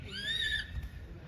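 A horse standing among others at the Taj Mahal gives a single short whinny, fairly faint, over quiet outdoor background noise.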